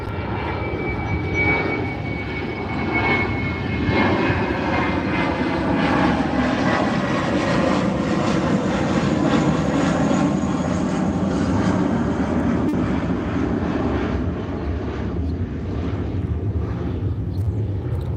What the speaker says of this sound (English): Let me know if I'm clear when this plane goes by.